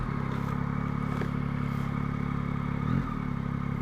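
A motorbike that has just stalled in the wrong gear, its engine noise a steady low rumble and whir close by, with a brief louder clatter near the end and no talking.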